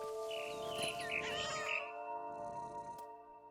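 Cat in the video game What Remains of Edith Finch giving a few drawn-out, wavering meows over a sustained tonal music bed, followed by a quieter tail with a brief click.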